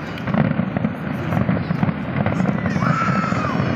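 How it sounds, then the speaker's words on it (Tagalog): Fireworks bursting over Lusail, Qatar during a skydiving event, heard as dense, continuous crackling and booming at a distance with a voice speaking over it. "Grabe fireworks, oh."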